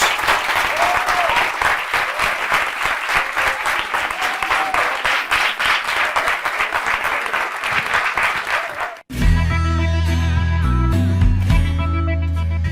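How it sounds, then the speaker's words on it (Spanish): A live podcast audience gives the guests sustained, dense applause for about nine seconds. It stops abruptly as loud music begins. "les pido un gran aplauso para ellos"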